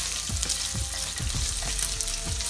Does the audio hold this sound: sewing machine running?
no